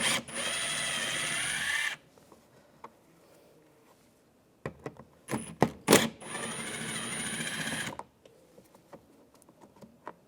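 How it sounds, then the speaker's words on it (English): Power driver runs T30 screws out of a 2008-2017 Buick Enclave door panel in two loud whirring bursts, with faint clicks and handling noises in between. "Now we're going to take these screws out. Use a T30 socket."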